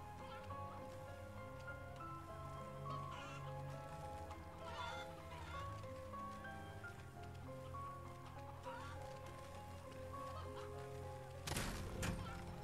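Chickens cluck and a horse whinnies in the video game MediEvil Remake, soft farm noises over quiet game music, with a brief louder burst near the end.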